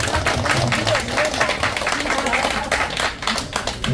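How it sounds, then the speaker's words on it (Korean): A small congregation at a tent church service claps in a dense, steady round of applause, with some voices mixed in. "박수."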